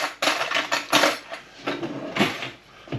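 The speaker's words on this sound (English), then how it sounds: "I'm just going to get a spoon." Metal cutlery clatters and rattles in a series of bright, close clinks and scrapes as a spoon is pulled from a drawer or holder in a home kitchen, with no talking.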